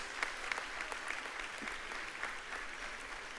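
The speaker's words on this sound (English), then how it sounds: "give yourself a great big round of applause" Faint, distant applause from an induction ceremony audience, a thin patter of clapping with a few sharper individual claps, heard briefly and quietly.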